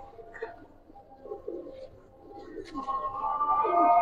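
Giribaz pigeons coo in soft, low, rolling phrases close by, the sound swelling louder toward the end over a steady faint background hum.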